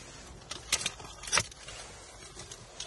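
Car keys handed over for a test drive while buying a car in Finland give two short metallic jingles close by, one after the other, against a quiet background with no talking.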